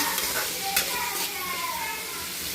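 Tomatoes sautéing and being stirred in a pan for a coconut milk rice and prawn kurma, a steady close sizzle with spoon scrapes and brief clinks throughout.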